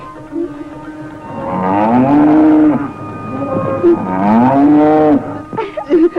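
A calf moos loudly and close by in two long, drawn-out calls, with a brief pause between them and little else around.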